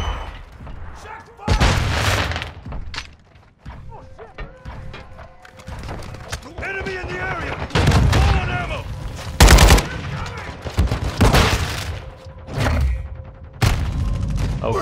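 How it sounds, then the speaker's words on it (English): In a Call of Duty MW2 multiplayer match, gunfire and sharp explosive bursts, including a flashbang grenade going off, break out in loud, repeated blasts, while a player talks over the action. "Flashbang, nothing I can do."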